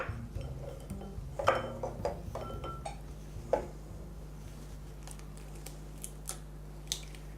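Egg yolks being readied in a bowl for hollandaise sauce: a few light clinks of utensils and glass against a bowl, then sparse small taps over a low steady hum, close and quiet, no voices.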